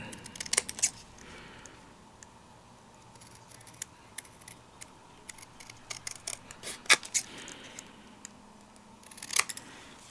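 Scissors snip through paper in quick, crisp cuts, a few clustered bursts separated by short pauses in a quiet room, while cutting out a stamped hummingbird silhouette.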